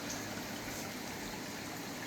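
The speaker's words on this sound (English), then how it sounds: "The water is dumping into the creek, dropping in and flowing through the bed," Pond water pours steadily into a garden creek and runs along its bed, pushed by a single pump with no filter, making a constant close trickling, gushing wash with no pauses.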